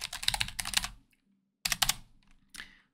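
Quick bursts of typing on a computer keyboard, two clusters of close, crisp keystrokes separated by a pause, then a brief final tap, alone in a quiet room.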